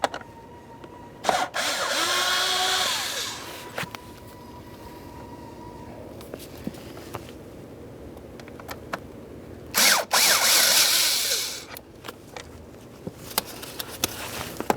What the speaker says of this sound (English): Now we can start removing the mounting bolts that hold the blower motor to the heater housing.